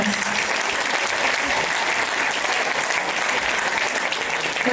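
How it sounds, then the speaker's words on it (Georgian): A concert audience greets a guest with warm applause, a loud, dense and continuous clapping that holds steady throughout with no audible talk. "ხუხარი აპლოდისმენტებით მივესალმოთ მას."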